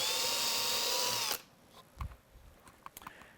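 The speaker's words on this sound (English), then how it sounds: "Let's drill another one that we can get to." Power drill boring a hole in wood, a loud steady whine for over a second that cuts off abruptly, followed by faint handling knocks and clicks.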